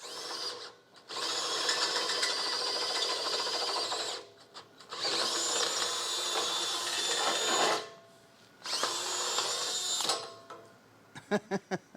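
A power drill whines loudly in three long bursts while boring through metal for a bumper, with short pauses between, followed by a few sharp knocks at the end.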